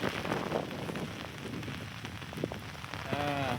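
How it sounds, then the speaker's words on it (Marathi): Heavy rain drums on surfaces in a steady, dense patter, fairly close and continuous, with a short horn-like tone near the end. "बघू शकता मित्रांनो आता असा पाऊस वाढला भयानक"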